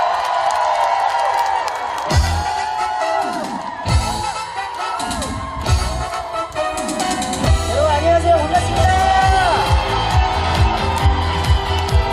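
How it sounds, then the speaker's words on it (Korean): A concert crowd at a Hadong event greets a singer with cheers and whoops, loud and sustained, blended with music and shouting voices throughout. "큰 박수 부탁드릴게요."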